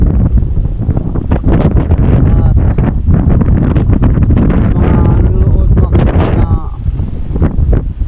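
Strong gusting wind buffeting the microphone outdoors by the water where a large ship has arrived, a loud continuous roar throughout, with a voice talking faintly underneath.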